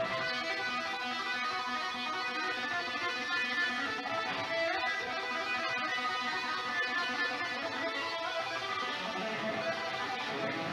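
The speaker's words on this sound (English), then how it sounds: "it's a tapping lick. So it looks and sounds like this." Distorted electric guitar plays a fast flowing tapping lick, a continuous stream of rapid legato notes at moderate volume with no voices.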